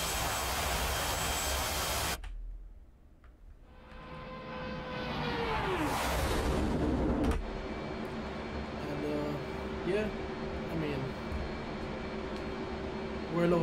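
An F/A-18C jet engine in the DCS World flight simulator spools up after an abrupt cut, a rising whine and roar that climbs in pitch, then settles into a loud, steady turbine hum with tonal whistles.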